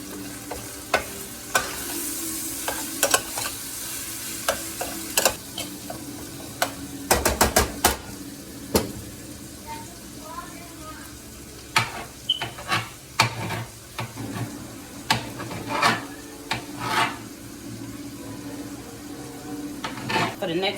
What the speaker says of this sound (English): Now I'm ready to give it a stir